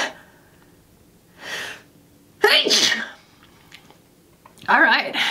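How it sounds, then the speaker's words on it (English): A single sharp human sneeze preceded by a brief intake of breath, loud and close, followed a moment later by another burst of breathy noise from the same person. "I'm gonna sneeze."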